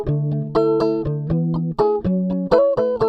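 Dry electric guitar with no added effects, picking a steady run of clear melodic notes, each with a sharp attack and ringing sustain, played alone up close.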